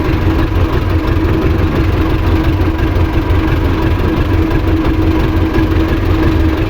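A farm tractor engine chugs steadily at low speed, loud and close, with a constant rumbling drone and a faint knocking rhythm, no voices over it.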